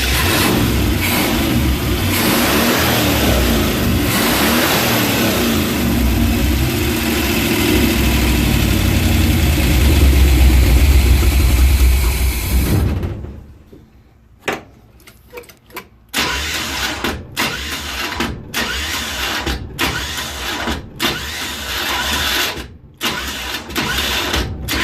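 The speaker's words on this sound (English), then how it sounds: "Hope the starter works." An old camper van engine cranks on its starter for about thirteen seconds, a loud steady churning that never catches, then cuts out into quiet broken by scattered clunks and short knocks.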